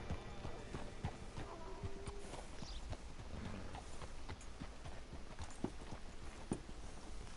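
Horse hooves clip-clopping at a steady walking rhythm in the Red Dead Redemption 2 video game, heard up close throughout over a dense background of in-game ambience.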